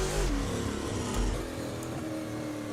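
A V8 Supercar engine in a racing video game with a Corsa sound mod drones loud and close in a sustained rev, easing slightly partway through.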